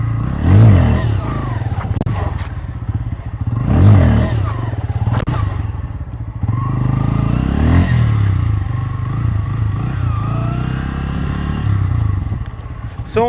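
A Bajaj Pulsar motorcycle engine revs up and drops off during wheelie practice with braking and throttle, rising in two sharp surges and then holding a steadier drone up close.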